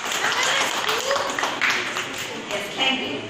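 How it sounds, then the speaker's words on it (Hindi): Clapping from a group at a chess coaching camp, a dense burst of claps mixed with chatter and voices, fairly loud and continuous. "ताली करना है।"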